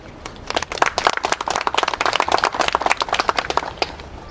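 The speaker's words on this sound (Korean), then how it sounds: "한 분 한 분 소개드릴 때마다 큰 박수로 맞아주시면 감사하겠습니다" An audience at an association's founding ceremony in South Korea applauds while officials are introduced: dense, close clapping that holds steady for several seconds, with sharp individual claps standing out.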